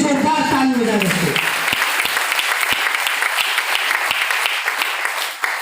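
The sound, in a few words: applause for the audience in a hall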